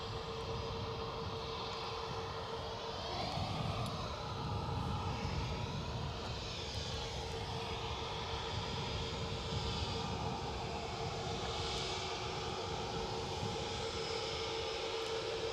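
An EasyJet airliner from Bristol at Edinburgh Airport, its engines giving a steady, moderately loud roar that holds evenly throughout.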